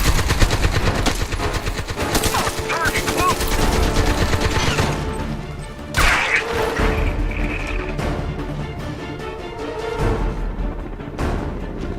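Rapid automatic gunfire from a firefight in Crysis 3 Remastered, loud dense bursts running almost nonstop with a few sharp crashes, under intermittent voices.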